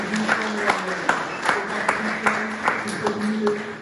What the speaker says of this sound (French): Si on peut encore applaudir.